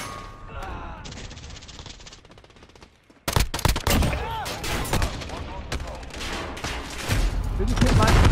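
Rapid video game gunfire bursts out in loud, dense volleys after a quieter opening, with the shots hammering on almost continuously while a voice speaks faintly underneath.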